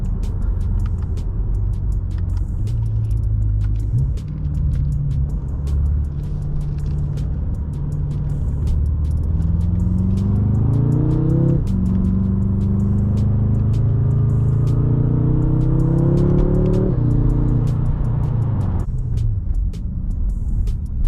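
A 675hp BMW M5 engine pulls hard while driving on snow, a loud, close rumble with rising pitch sweeps as it climbs through the gears over roughly twenty seconds, then drops off at the end.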